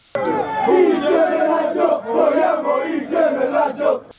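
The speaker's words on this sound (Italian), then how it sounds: "dal settore riservato ai tifosi del Foligno si leva il coro Facciamo il gemellaggio rivolto ai sostenitori del Bastia" Foligno football supporters in their reserved stand at a Coppa Italia Serie D match against Bastia chant in unison, a loud, sustained crowd song rising and falling in rhythmic phrases for several seconds.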